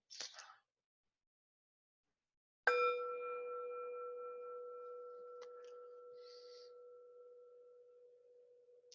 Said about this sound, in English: We'll begin and end this activity with the bell.